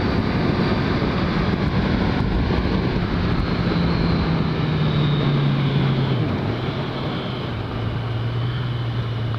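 Kawasaki Z1000SX 1000cc motorcycle engine droning loudly and steadily at high revs on the road, a sustained tone that sags slightly near the end amid heavy wind rush.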